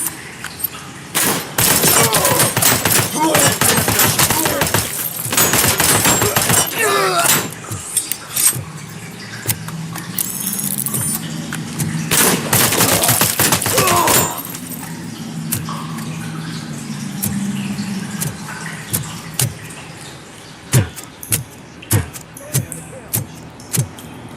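Sustained automatic gunfire in the video game Robocop Rogue City, loud and close, with dense bursts in the first half, then sparser sharp shots and impacts toward the end, along with some game sound.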